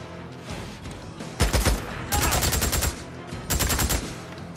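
Days Gone video game gunfire rattles in loud, close bursts of rapid automatic shots, three main volleys separated by brief pauses, with a quieter game background between them.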